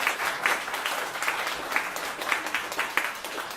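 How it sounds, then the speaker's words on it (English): Audience applause at a talk in the UK, a steady wash of many hands clapping together from a sizeable crowd, sustained and even throughout with no speech over it. "Why don't we give him a round of applause?"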